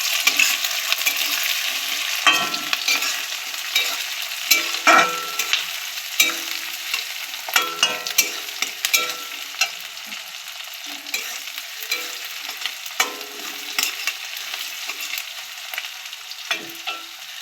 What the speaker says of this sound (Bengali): পেঁয়াজটা ভাজা ভাজা হলে এবার আমি ক্যাপসিকাম দিয়ে দেবো।